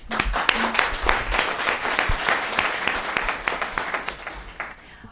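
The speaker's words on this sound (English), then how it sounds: "Let's give these student debaters a big round of applause." An audience claps in sustained, dense applause for student debaters at a debate semi-final, gradually tapering toward the end.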